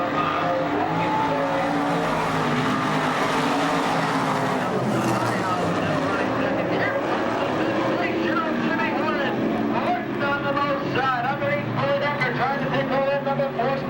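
Race cars come out of turn four at a speedway with a loud, continuous engine roar and tire noise, while an announcer calls the action over them throughout.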